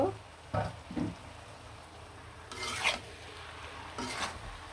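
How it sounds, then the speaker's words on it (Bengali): Noodles with chicken pieces, potato and beans are stirred in a pan, giving several bursts of scraping and rubbing against the pan over a faint background sizzle. There is no talk. "সবজির সাথে এখন নুডলসটা ভালো করে লাড়াচাড়া দিয়ে কিন্তু মিশিয়ে নিব।"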